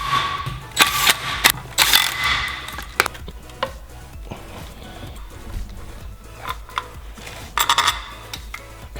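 Water pump bolts being tightened with a tool on a Mercedes Vito van, a run of sharp metallic ratchet clicks and taps near the start, then sparser clicks and a final quick burst, close and fairly loud with no talk.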